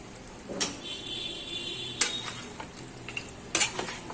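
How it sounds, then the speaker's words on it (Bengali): Chicken frying in oil with ginger, garlic and onion for aadrak chicken, a soft steady sizzle with a few sharp stirring scrapes and clinks of a utensil against the pan, close and moderately loud, no talking. "আর তারপরে আমি তেলের মধ্যে আদা রসুন পেঁয়াজ দিয়ে চিকেনটা ঢেলে দিলাম।"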